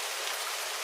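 Steady rain falls as a continuous, even hiss of raindrops on a surface, with no other sounds or voices.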